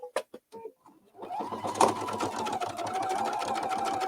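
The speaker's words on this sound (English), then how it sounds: "I put my needle down there, and I just start sewing." A sewing machine with a circular attachment starts after a few light clicks, then stitches in a steady, rapid mechanical whir with a fast repeating needle rhythm, close and clear.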